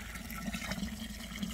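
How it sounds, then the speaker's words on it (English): Water pours steadily into a container of beeswax for rendering, a continuous close splashing gurgle with no speech. "I'm bringing the water up pretty much right up around the top of the wax"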